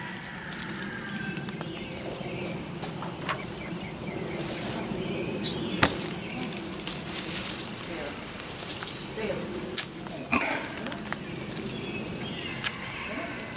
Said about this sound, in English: You hear them falling off as I'm clipping around them.